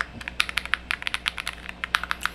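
Rapid, crisp clicks of a 60% layout mechanical keyboard being typed on, steady and close, with no voices.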